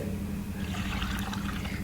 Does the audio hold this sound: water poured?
yes